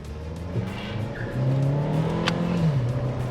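A Chevrolet Malibu with a 1.5 engine pulls away from a standstill, its engine note rising steadily in pitch as it accelerates, heard from inside the car with a brief tyre chirp and no talking.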